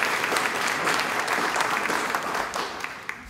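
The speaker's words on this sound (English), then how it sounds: "Another round of applause." An audience applauds after a talk on the spirituality of music, a thick wash of many hands clapping at once that holds steady and then thins out toward the end, heard from within the room.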